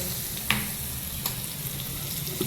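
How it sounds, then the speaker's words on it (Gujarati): Green chillies sizzle in hot tempering oil, a steady low frying hiss with a couple of brief sharp pops, fairly close and with no voices. "લીલા મરચાંનો વઘાર કર્યો"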